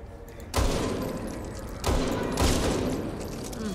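Gunfire in the zombie shooter Back 4 Blood: three loud, close bursts of shots, each a sharp crack followed by a long decaying rumble, with no talk over them.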